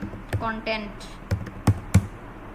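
Several separate keystrokes on a computer keyboard while a LinkedIn profile is filled in, sparse sharp taps spaced irregularly, with a person speaking over the start.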